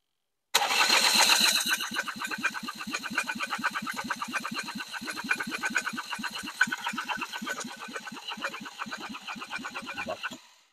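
A Ligier Nova 500 microcar engine cranks steadily for about ten seconds in a fast, rhythmic churn that never catches, loud and close with no talk over it.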